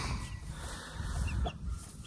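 Chickens clucking inside a backyard pen built from old tree guards, a steady low mass of fowl sounds going on throughout with no talk, fairly close and moderate in level.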